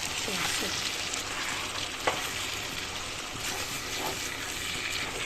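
Duck meat frying in a pan sizzles steadily while a spoon scrapes and turns it, giving a few distinct stirring knocks over the continuous crackle.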